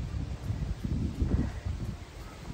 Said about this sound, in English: And the wind has picked up, as y'all can see.